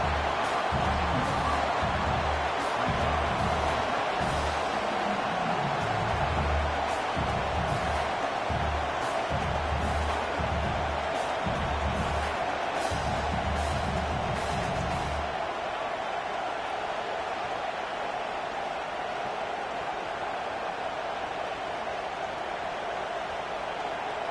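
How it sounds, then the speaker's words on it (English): A loud, steady roar of a large football stadium crowd during a game fills the whole stretch, with rumbling low thumps in the first half that fade out. "this crowd is a fever pitch"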